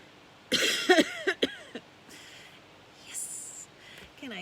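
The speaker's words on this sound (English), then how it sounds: "Can I get through a day without coughing?" A person coughing indoors, a cluster of several sharp, close coughs followed by throat clearing and quieter breathy sounds.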